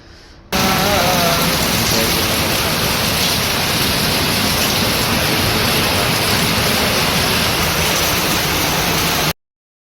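Heavy monsoon rain pours down on a college campus in Pune in a loud, constant hiss that starts abruptly and holds steady throughout before cutting off.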